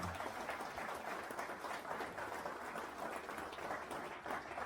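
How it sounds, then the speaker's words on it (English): Audience applause at the launch of a farm project in a Fijian village, a steady even wash of many hands clapping that holds throughout at moderate distance, with no voices rising above it. "A big round of applause, ladies and gentlemen."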